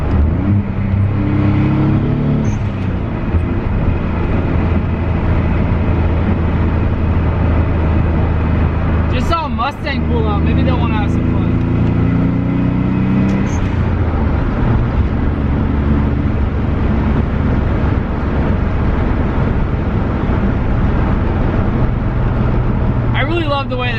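A Nissan 300ZX twin turbo engine drones steadily and loudly throughout, with voices talking over the constant cabin rumble.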